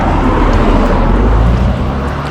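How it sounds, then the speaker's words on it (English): A car sweeps past on a road in Coromandel, New Zealand. Its loud, steady broadband rush fills the whole moment and eases off slightly toward the end. "I decided to put the camera away and stop singing because a car just passed"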